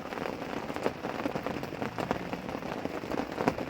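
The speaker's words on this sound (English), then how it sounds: "it's raining a bit again" Rain falls at a carp-fishing lake, Rainbow Lake, as a steady close patter of drops on a surface, with occasional louder individual hits and no speech.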